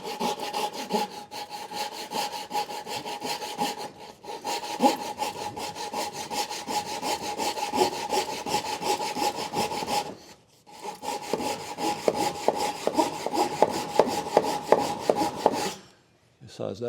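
Hand saw cutting wood for a butterfly joint, steady back-and-forth rasping strokes running nearly continuously with two short pauses, close and clear with no talking.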